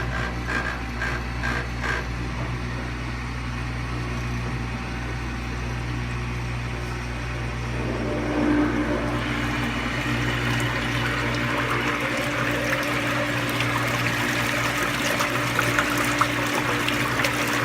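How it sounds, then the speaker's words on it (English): A whirlpool therapy tank motor hums steadily, then the water agitator kicks in and a louder, continuous rush of churning water builds and holds to the end. "And then I will turn on the motor, which is gonna be loud"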